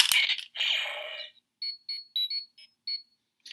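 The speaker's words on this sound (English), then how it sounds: "makes a communicator noise" A burst of noisy rustling, then a string of short, bright electronic beeps in an uneven pattern from a Power Rangers Super Megaforce toy morpher's communicator sound, close and clear.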